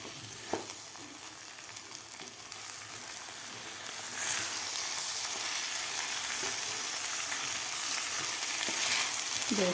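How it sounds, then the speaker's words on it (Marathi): Rice and dal fry in masala for khichdi, a steady close sizzle that grows louder partway through, with occasional scrapes and clinks of stirring. "आता व्यवस्थित आपल्याला खालच्या मसाल्यामध्ये हे तांदूळ आणि डाळ व्यवस्थित परतून घ्यायचे आहे"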